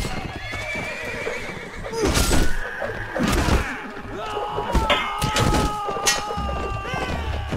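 Horse neighing and galloping hooves in the video game Gekokujo, several whinnies rising over a steady clip-clop of hooves amid battle noise, fairly loud throughout.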